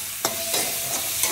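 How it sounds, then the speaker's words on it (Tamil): Onions frying with salt in a pan for a prawn curry: a brief close sizzle with a few sharp spatula scrapes as the onions are stirred. "வெங்காயத்துக்கு மேலே உப்பு சேர்த்துட்டு கூட ரப்பண்டு வதக்கிடுவோம் வெங்காயம்"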